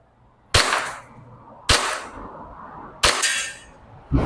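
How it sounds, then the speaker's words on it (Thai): E&C Glock 19X airsoft BB pistol fired at targets about 15 metres away, with three sharp, loud cracks spaced roughly a second apart and a fourth just beginning at the end. "มาเป้า 10 เซนและ 20 เซนนะครับระยะ 15 เมตรนะครับมาดูกันจะว่าก๊อก 19x จะยิงโดนไหม"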